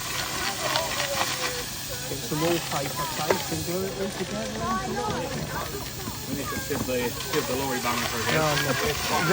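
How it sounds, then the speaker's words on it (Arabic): A coal-powered steam train engine hisses steam continuously and loudly, a broad steady rush that lasts throughout while people talk over it. "عشان البخار زاد فكده يعني بيقول القطر جاهز"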